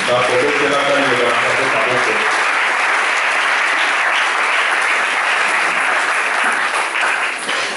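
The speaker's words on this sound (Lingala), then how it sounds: "Vous pouvez vous mettre en acclamant la parole de Dieu." A church congregation claps and cheers in loud, sustained applause to acclaim the word of God, a thick continuous roar of hands with a voice briefly heard near the start.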